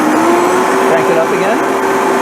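A blender whirs at steady high speed while blending a protein smoothie, a loud close motor whine with a constant pitch and voices faintly underneath.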